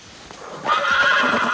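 A horse gives a loud, close neigh that swells and holds, while hooves clop steadily beneath it, with no voices.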